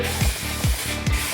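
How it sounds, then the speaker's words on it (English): Short bursts of contact adhesive spray sprayed onto plyboard, three quick close hissing passes in a steady rhythm, with no talking. "Just going to use some contact adhesive spray and give it a good"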